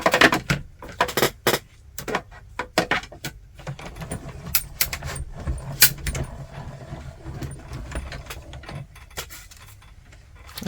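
Card stock fed through a die cutting machine makes a string of sharp clicks and clacks, some close together and others spaced out, followed by softer rattling and handling noises, all fairly close.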